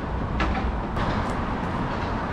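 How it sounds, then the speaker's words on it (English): A high-speed train running in China makes a steady, loud rumble close by, with a couple of faint higher clatters over a continuous low roar and no talk. "The high-speed rail here in China can go over 300 kilometers an hour."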